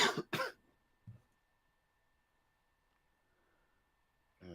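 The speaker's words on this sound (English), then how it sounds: "got smoker's cough" A smoker's cough: two sharp, close coughs in quick succession, then a softer throat-clearing grunt, followed by near silence in a quiet room.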